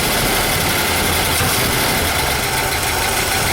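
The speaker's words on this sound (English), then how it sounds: "Now it's cold, so it's on high idle like it should be." A cold 1964 Corvette with the 365hp engine, correct carburetor and air breather, runs steadily on high fast idle, a loud continuous close engine drone with no talking.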